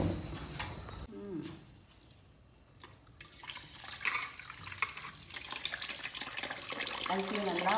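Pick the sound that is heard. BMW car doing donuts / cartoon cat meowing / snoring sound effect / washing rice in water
washing rice in water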